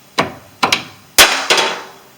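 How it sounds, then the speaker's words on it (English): Four dull, solid strikes of a soft hammer on metal during ball joint work on a 2008 Chevy Silverado 1500, the second a quick double hit, each ringing briefly before fading; close and fairly loud. "This is a soft hammer."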